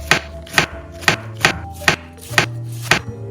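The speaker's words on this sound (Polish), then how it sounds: "Pokrój całą kapuchę." Seven sharp knife chops through young cabbage hit a cutting board in a steady rhythm, close and crisp, with no talking.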